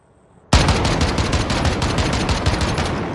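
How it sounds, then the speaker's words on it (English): DMR rifle on rapid fire in a video game, a loud close burst of quick evenly spaced shots that starts abruptly and rattles on without pause, no voices over it. "What about DMR? Rapid fire on."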